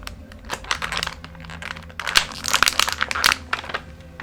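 Plastic packaging crinkles and clicks up close as a Funko figure is worked free, with irregular bursts of crackling and tapping.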